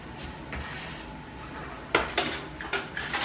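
Fish being flipped with a metal spatula on a stovetop grill: several sharp metallic scrapes and clanks in quick succession near the end, close, over a low steady background hiss.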